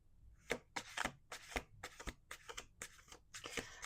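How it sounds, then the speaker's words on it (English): Cards being shuffled with a quick series of crisp riffling clicks and snaps, close and fairly faint, no voices. "We're going to do 1 more shuffle."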